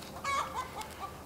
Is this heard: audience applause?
no